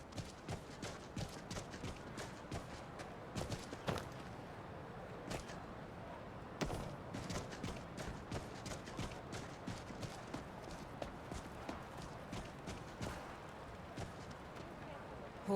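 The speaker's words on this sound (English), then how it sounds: "Horses, all day long." Horse hooves clip-clop in the video game Skyrim, a steady, rhythmic trot of sharp hoof strikes continuing for around fifteen seconds over a low background of game ambience.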